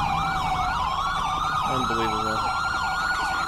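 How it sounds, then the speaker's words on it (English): Wailing police sirens in GTA V, several overlapping and sweeping continuously at loud volume, with a brief spoken exclamation partway through. "all these fuckers showed up, blaring their sirens"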